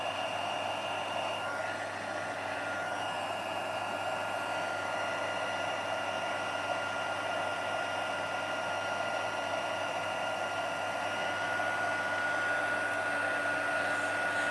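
A heat embossing tool blows hot air over a stamped card, a steady, close, continuous whirring hum that holds unchanged for the whole stretch with no talking.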